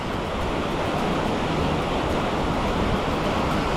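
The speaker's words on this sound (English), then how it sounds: "it's a beautiful waterfall" Steady rushing water from a waterfall in Grand Teton National Park roars without a break, a dense continuous wash of falling water close by.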